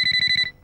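A mobile phone ringtone gives six quick, bright electronic beeps in a fast even rhythm, then cuts off abruptly, heard close and alone.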